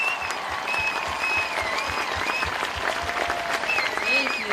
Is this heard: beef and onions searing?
no